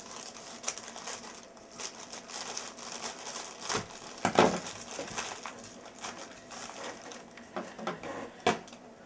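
A plastic AliExpress parcel bag is torn open and handled up close, with irregular crinkles, rustles and sharp snaps spread across the stretch and no talking.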